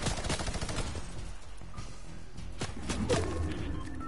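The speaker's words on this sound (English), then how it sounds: "Am I getting shot by a henchman?" A Fortnite henchman fires a gun in rapid bursts of cracking shots that stop briefly, then return as a few more sharp reports.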